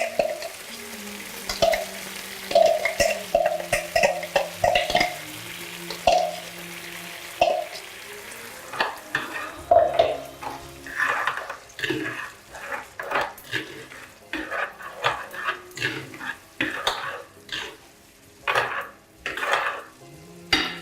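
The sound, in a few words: chermoula fish marinade paste cooking with tomatoes and onions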